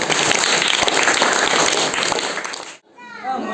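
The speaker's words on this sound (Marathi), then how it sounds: "तर आलेल्या पाहुण्यांचं आपण पहिलं स्वागत क्लॅप करून टाळ्या वाजवायचे।" Audience at a village Zilla Parishad school function applauds to welcome guests before an educational supplies distribution, loud dense clapping filling nearly three seconds, then stopping abruptly as a voice and chatter follow.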